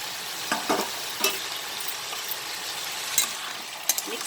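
Long beans and potatoes stir-fry in a pan over high flame, making a constant bright hiss with occasional soft scrapes and clicks as they are tossed, and no one speaks.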